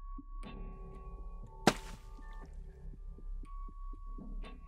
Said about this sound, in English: A wet thud from my shower.